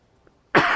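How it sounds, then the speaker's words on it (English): A single sharp cough bursts out after a near-silent pause, loud and close, with a brief rasp trailing off. "I'm gonna cough for a second."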